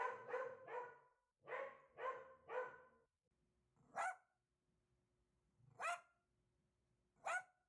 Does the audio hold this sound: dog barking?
yes